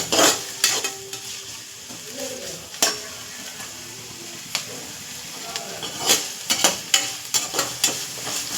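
Onion and capsicum stir-frying in a pan for baby corn manchurian, with intermittent spatula scrapes and stirring clatter over a soft sizzle, close by, with occasional speech in between.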